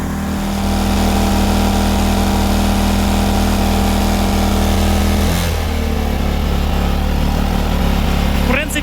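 A Black & Decker 2200W petrol generator runs loud and steady with a constant engine hum, heard from about three metres away. A voice talks over it, and the engine note dips and shifts partway through.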